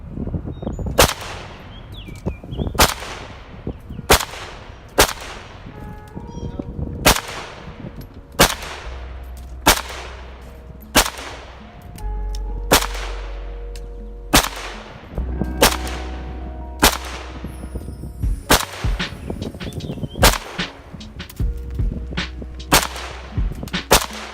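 A WASR-10 rifle fires sharp, loud gunshots one at a time at a steady pace, about eighteen shots spaced one to two seconds apart.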